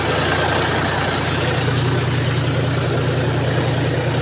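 A tractor engine runs steadily and close by, a loud continuous low diesel rumble with no breaks and no voices over it.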